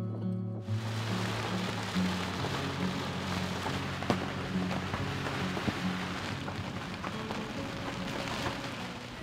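Steady rain patters on a hard surface aboard a sailboat, a constant hiss with occasional louder drips and a low background hum.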